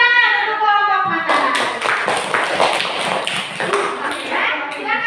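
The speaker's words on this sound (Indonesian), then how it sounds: "Kasih tepuk tangan untuk kelompok mata." A classroom of pupils claps together for a group, a dense burst of applause that runs for several seconds, with some noise from the room underneath.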